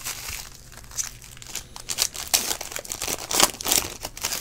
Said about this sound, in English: that was how not to open a pack of cards